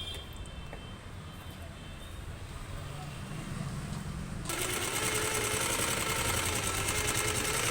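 Sewing machine stitching the waist of a blouse, a steady close whirring run that grows louder and faster partway through.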